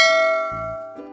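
A bright notification bell chimes once and rings out with a clear, sustained metallic tone and no voices.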